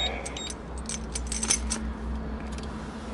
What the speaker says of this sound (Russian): Так, вот ключ.